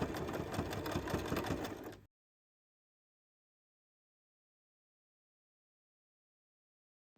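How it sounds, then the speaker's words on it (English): Close sewing machine stitching pinned fabric pieces for a knitting needle case, a steady mechanical run lasting about two seconds before abruptly stopping into silence. "Now pin them together and sew the pinned area."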